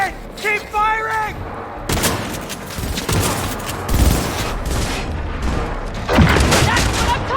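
Rapid bursts of gunfire and booming shots fill a firefight in the video game Cyberpunk 2077, loud and dense throughout, with a player shouting over the shooting.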